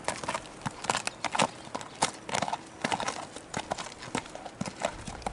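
Hooves clip-clop steadily on hard ground as a ridden horse walks, close by, with an occasional snort and some light rustling between the steps.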